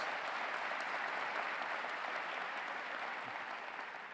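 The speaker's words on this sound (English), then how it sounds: "Let's give mother-in-law a round of applause." A crowd at a 2018 State of the City address claps for the mayor's mother-in-law, a continuous, fairly soft wash of applause that stays even and slowly tapers toward the end.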